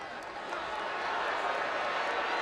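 A large football stadium crowd of about 14,500 at a Tulsa vs. Oklahoma State game sends up a sustained, far-off roar of disapproval after a penalty flag, a steady wash of noise that swells slightly and holds.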